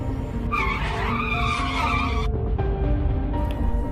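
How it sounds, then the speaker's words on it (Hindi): A cartoon scooter skids to a sudden stop, a loud tire squeal sweeping across the first two seconds before cutting off, leaving a low engine rumble underneath. "बुल्ली एकदम स्कूटर रोकता है"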